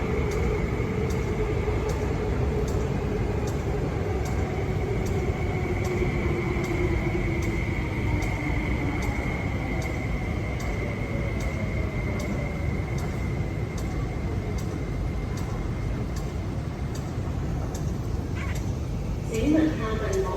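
MTR West Rail Line train standing at a Hong Kong platform, a steady rumbling hum with a rising tone fading in and out, while mind-the-gap announcements play.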